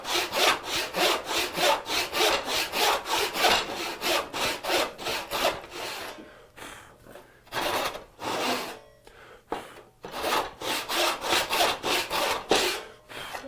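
Hand saw cutting a dado into wood, a steady run of loud rasping back-and-forth strokes that pause briefly midway and then resume at a similar brisk rhythm, close up with no talking.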